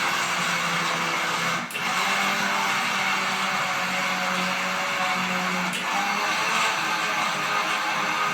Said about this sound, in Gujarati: મિક્સરમાં કાઢ નાખીશું